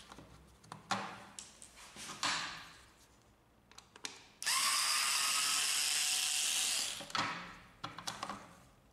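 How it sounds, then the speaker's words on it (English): Screws being removed from the wiper blade of an HP W1106A laser toner cartridge with a small electric screwdriver, faint clicks and scraping, then a steady few-second whirring run and more handling clatter afterward. "Remove the two screws of the wiper blade."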